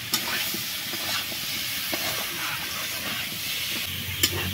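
Prawn curry with potato, taro and malabar spinach stems bubbling and sizzling in a pot, with a steady hiss and occasional stirring clinks, close and without talk.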